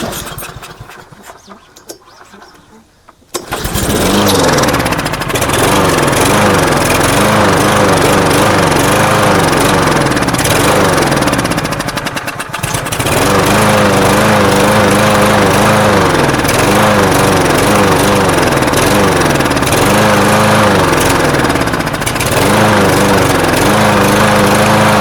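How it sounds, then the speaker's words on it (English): A scrapyard-bound lawn mower engine coughs to life after a brief quiet start, then runs loud and steady at close range with slight surging and one short dip in revs partway through. "this engine runs perfectly fine"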